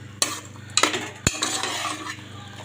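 Mutton lungs and fat frying in oil, stirred with a utensil that clatters sharply against the pan several times over a continuous close sizzle, with no talking.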